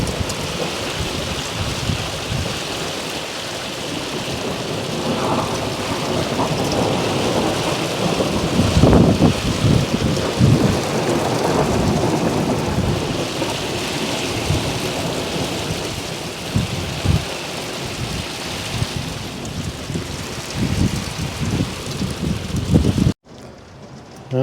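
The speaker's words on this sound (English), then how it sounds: "That's some pretty rough weather out there." Heavy sleet and rain lash down outdoors in rough weather, a dense continuous hiss with gusty wind buffeting the microphone and low rumbles, loud and close with no talk, cutting off abruptly at the end.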